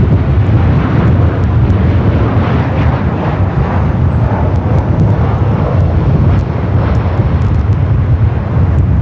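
Airbus A350-1000 jet at Los Angeles airport on gusty winds, a loud continuous low engine roar mixed with heavy wind buffeting on the microphone, steady across the whole stretch.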